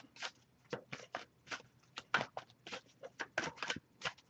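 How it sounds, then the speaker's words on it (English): A deck of tarot cards being shuffled by hand, a rapid series of soft papery riffles and slaps repeating roughly every half second, close and fairly quiet. "I'll give a few more shuffles"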